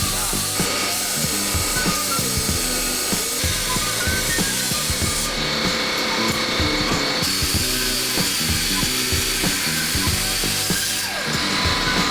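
A loud power tool cuts off brackets on an E28 car, grinding and whining steadily for the whole stretch with shifting pitch and a rough metallic edge, heard close.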